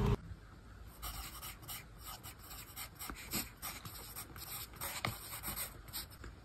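A pen scratches quick, short strokes of Hindi shorthand onto paper, producing a close, irregular patter of soft scrapes and taps that continues throughout without speech.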